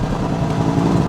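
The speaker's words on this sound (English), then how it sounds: "bang off the rev limiter, which I might mention sounds absolutely unbelievable" A Lexus IS F engine revs hard and bounces off the rev limiter, a loud, close, rough mechanical drone with a rapid pulsing stutter lasting about a second.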